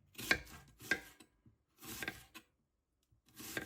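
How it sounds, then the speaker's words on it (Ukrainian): A knife cuts onion into half-rings on a cutting board in four crisp, separate strokes, close and fairly quiet, with short pauses between them. "Після чого розрізаємо навпіл та нарізаємо півкільцями"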